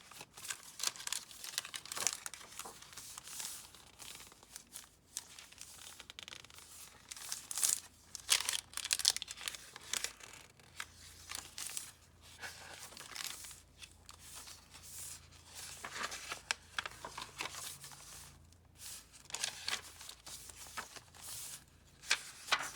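Double-sided textured paper for boho junk journals crinkles and rustles as it is handled up close, in a continuous run of crisp, uneven crumpling sounds.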